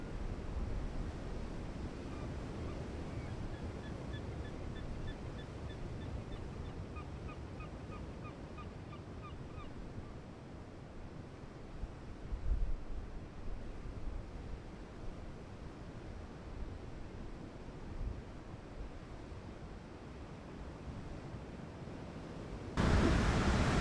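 Ocean waves breaking against an iceberg off Newfoundland, a steady low roar of surf and churning water throughout, with occasional heavier surges and distant bird calls faintly above.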